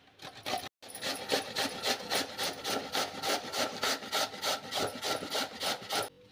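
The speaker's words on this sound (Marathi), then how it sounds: "आता आपण यामध्ये भोपळा किसून घेऊया." Pumpkin is rubbed over a coarse grater in quick, even back-and-forth strokes, a rhythmic rasping scrape repeated about three times a second, close and moderately loud, with no talking.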